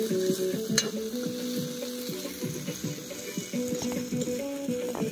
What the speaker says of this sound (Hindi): मर्चा भी है, आधा भी है, ये सब डाल के इसको फ्राई करना पड़ेगा